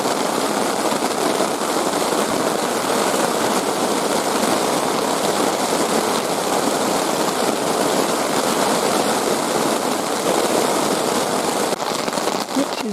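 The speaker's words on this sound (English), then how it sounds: "We've got hail mixed in with it as well now, so it's just getting pretty interesting." Heavy rain mixed with hail pounds a tarp at a campsite, a loud, dense, unbroken drumming of drops that holds steady the whole time.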